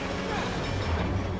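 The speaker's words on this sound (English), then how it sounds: "The cops really climb on top of a moving train." Moving train in the video game Beyond: Two Souls, a steady low rumble and rolling rail noise filling the scene, loud and continuous, with talk likely over it.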